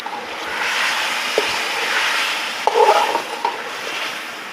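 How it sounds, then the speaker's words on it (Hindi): Beef pieces going into a pot of spices for beef biryani, giving a steady soft sizzle and frying hiss with a few stirring scrapes and a short louder clatter midway. "अब जी हम गोश्त डालते हैं, साथ ही इसको भी भुनी लग जाएगी"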